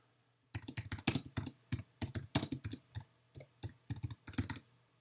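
Quick bursts of clicky keystrokes on a computer keyboard while a team name is entered, irregular clusters of taps close to the microphone in a quiet room with no talk.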